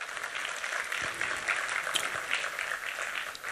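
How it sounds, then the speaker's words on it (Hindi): Listeners at a 2018 mushaira poetry gathering in Vadodara break into steady, dense applause that holds at an even level for several seconds, filling the hall. "जोरदार तालियां बजा दीजिए"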